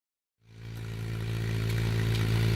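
A motorcycle that stood idle for two years fires up after a jump-start, the engine catching abruptly from silence and settling into a loud, steady, throbbing idle close by, with no voices.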